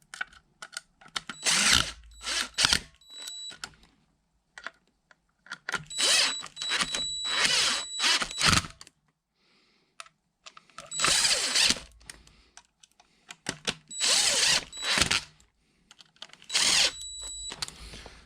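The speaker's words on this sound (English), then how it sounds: "be careful with power tools because you can potentially over tighten these" Power tool driving the clamp screws on a BobsCNC Evolution CNC machine, in several separate bursts of whirring and ratcheting clicks with short quiet gaps between them, close and fairly loud, with no talking.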